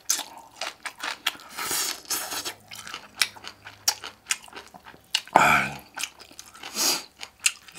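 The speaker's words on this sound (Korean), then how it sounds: "김치 한번 먹어볼게요." Kimchi is chewed close to the mic with wet, crunchy bites repeating in an uneven rhythm, loud and isolated with no talking.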